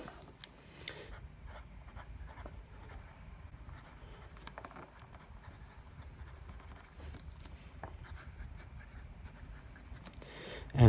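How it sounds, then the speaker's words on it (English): A fountain pen writing on paper, with soft continuous scratching and light strokes close up, faint and steady throughout with no talking. "let's get on to the writing sample, where I write a little bit from Dracula by Bram Stoker"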